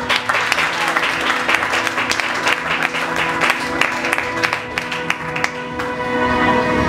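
A church congregation applauds and cheers for the Lord during a sermon: dense, sustained clapping with crowd noise filling the room throughout, loud and steady.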